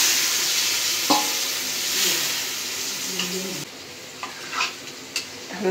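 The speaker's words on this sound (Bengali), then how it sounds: "এখন দিয়ে দিব এই সেদ্ধ করা কচুর শাকটা।" Boiled taro leaves are added to hilsa fish masala in a pan and stirred, giving a close, even sizzle with a few soft scrapes and utensil knocks.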